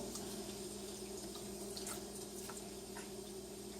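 Water runs steadily from a kitchen sink faucet, a continuous soft hiss and splash with a few faint drips and clinks, heard alone without talk.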